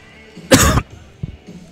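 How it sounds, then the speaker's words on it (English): A single sharp cough bursts out close to the microphone, followed by a soft throat-clearing sound, in a commentary setting at a cadet judo championship. "excuse me, got a cough."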